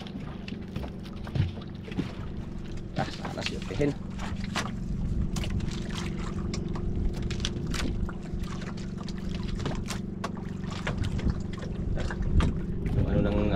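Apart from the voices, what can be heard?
strong wind outside on a boat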